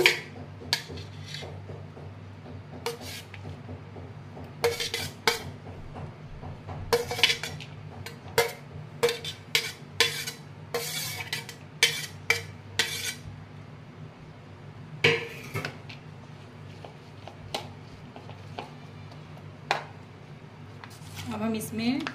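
Grated onion and capsicum stirred together in a bowl for a sandwich filling, with repeated spoon clinks and scrapes against the bowl over a low steady background hum.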